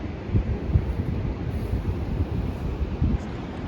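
Surf breaking over a shallow rocky reef at a left-hand point break, a steady low roar of waves with heavy wind buffeting the microphone and brief surges as sets roll in.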